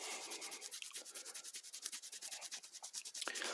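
Cloth rubbing leftover metal polish off a pair of pliers, a rapid rhythmic back-and-forth scrubbing of quick even strokes, close and fairly quiet, with no talking.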